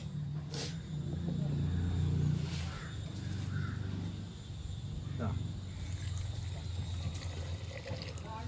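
Hot water pours into a pot of cooking tapioca for a Kozhikode-style curry, a steady, fairly loud watery rush over a low background hum that lasts most of the clip.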